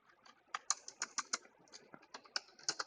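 Keys clatter on a computer keyboard in quick irregular bursts of crisp clicks, close and fairly quiet, with short pauses between strokes and no talking.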